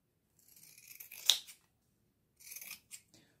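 Scissors snip through fabric corners while a sewing project is being trimmed to reduce bulk, with a few crisp close cuts in two short bursts and no talking.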